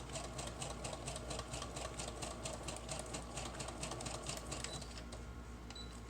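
A sewing machine stitches fabric down onto paper for a junk journal. A steady, faint mechanical chatter with rapid rhythmic ticking runs continuously over a low hum.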